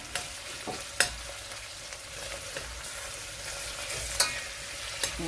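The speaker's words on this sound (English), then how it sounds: "just gonna fry it off lightly" Onions, garlic and thyme frying lightly in a pan for a chicken and turkey curry, a continuous bright sizzle with several crisp clicks of stirring, close and steady with no speech.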